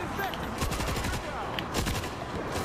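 Heavy weapon fire in the zombie shooter World War Z: a loud cluster of rapid, sharp shots, then another burst a second later, all over a dense, constant wash of game noise with faint background voices.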